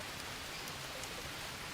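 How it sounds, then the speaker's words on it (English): Rain falling in the jungle survival game Green Hell, a soft, even hiss of steady rainfall with faint scattered drops, quiet and unbroken throughout. "It's raining. Great."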